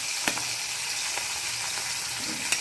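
Hot chili dropped into a little oil over a low gas flame, giving a continuous close sizzling hiss with a few soft crackles and clicks, with no voices.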